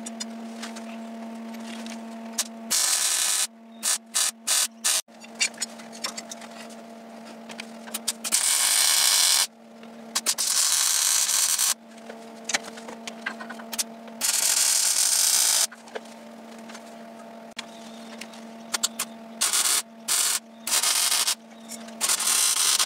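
Welding on a 1930 Ford Model A pickup chassis: loud, crackling, buzzing bursts of varying length, broken by short silences, close to the listener.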